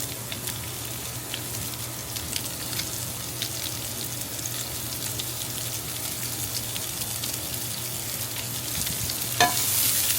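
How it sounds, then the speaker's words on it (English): Mustard seeds and onions fry in oil, giving a constant, even sizzle close by with faint popping and stirring throughout, no voices. "I add mustard seeds, just half a tablespoon of that. Let that pop. Once that's done, just add your onions."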